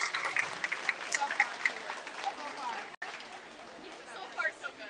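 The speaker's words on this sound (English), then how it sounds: "Let's give her a round of applause." Audience at a market beef show applauding the judge, a steady patter of clapping at moderate distance with people talking over it.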